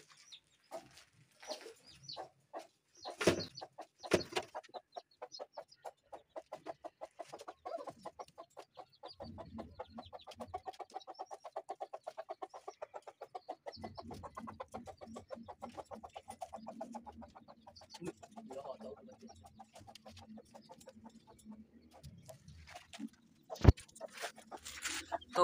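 A broody hen sitting over her three-day-old chicks clucks in steady, rapid low pulses at close range, with occasional soft peeps and scuffling around her.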